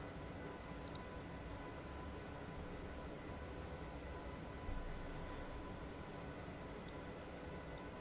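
A train in Train Simulator 2017 on the Letchworth to London Kings Cross line, limited to 110 mph, running with a steady, even cab rumble and a few faint ticks.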